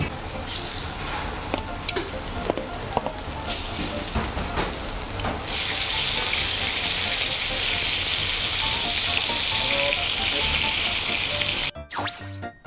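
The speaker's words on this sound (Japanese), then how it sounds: "お肉の表面を焼いていきます。" Meat searing in a hot pan for a curry made with whole ingredients gives off a loud, steady sizzle and hiss that grows fuller partway through, with a few small knocks early on and no talking.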